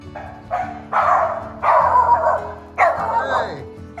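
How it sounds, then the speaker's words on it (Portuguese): A small pet dog barks excitedly as its owner comes home after two months away, letting out several loud bursts of yapping over about four seconds, with a person's voice mixed in. "Tô louco pra ver a reação da Peach, a minha cachorrinha"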